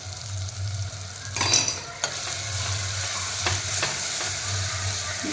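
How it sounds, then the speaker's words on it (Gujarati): Ginger, green chili and garlic paste sizzle in oil in a frying pan, a steady close hiss punctuated by a few scraping strokes of a stirring spoon. "ને સારી રીતે હલાવી નાખીએ"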